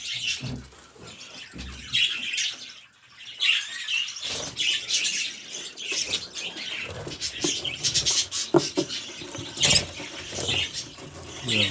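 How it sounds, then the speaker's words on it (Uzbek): Busy high-pitched chirping and tweeting from several small birds, with rustling and fluttering, close by and continuous. "Mana bitta qushlarimiz bor mana."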